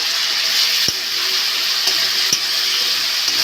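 Masala fries in oil in a pan for a potato and pangas fish curry, a loud, constant sizzle and hiss with a couple of sharp ladle clicks.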